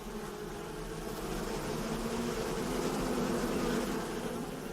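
Bees swarm around old traditional log hives in a Chinese blossom-honey region, a steady, close buzzing drone that holds evenly without pause.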